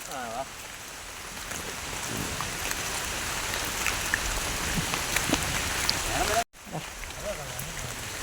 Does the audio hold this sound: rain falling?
yes